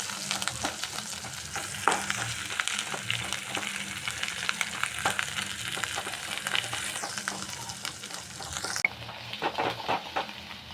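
Fish eggs frying in a pan while being stirred, a steady oily sizzle with scraping strokes and occasional knocks of the spoon against the pot, close and alone without talk.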